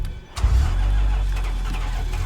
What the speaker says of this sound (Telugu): ఏం లేదు రమ్మా, కార్ స్టార్ట్ అవ్వట్లేదు.